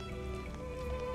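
Rain falling in the video game Xenoblade Chronicles 2: Torna, a steady soft patter that stays constant with game music tones running through it.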